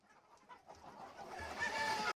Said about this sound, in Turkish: 76 yaşındaki emekli öğretmen Bekir Karakoç, 3 yıl önce hobi olarak başladığı etli horoz yetiştiriciliğini kısa sürede profesyonel boyuta taşıdı.